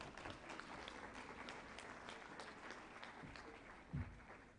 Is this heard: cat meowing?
no